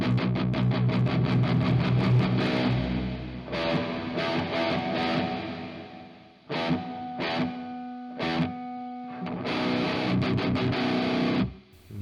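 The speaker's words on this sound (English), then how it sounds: "So let's dial in some reverb." Distorted, saturated electric guitar played through a Lekato Cube Baby multi-effects pedal with reverb, loud strummed chords and riffs with short pauses and ringing held notes, no talking.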